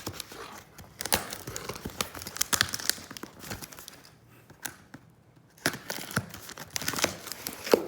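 Newspaper packing being pulled out of a box, with bursts of crinkling and tearing paper that come in uneven clusters, fairly close and quiet, with a short lull in the middle.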